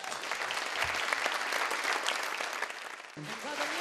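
Audience applause at a Liepāja city birthday evening awards ceremony, a dense continuous patter with a brief voice or musical tone near the end.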